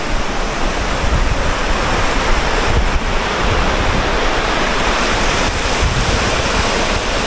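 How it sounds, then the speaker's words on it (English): A mountain river runs swiftly, its loud, steady rush filling the whole stretch with slight surges and no voices on top. "Look at that river."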